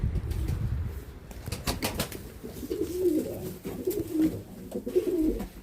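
Pigeons take off with sharp bursts of wing flapping, followed by soft, low cooing close by, with no talking.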